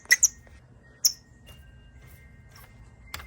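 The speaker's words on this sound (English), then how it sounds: "Sounds like a little bird." A few short, high-pitched chirps like a small bird, scattered and faint over a quiet background, heard while changing the shift boot on a Mazda Miata.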